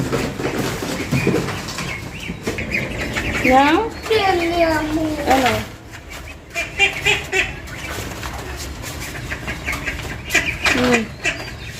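Ducks quacking and birds calling close by, mixed with people talking over a busy outdoor background.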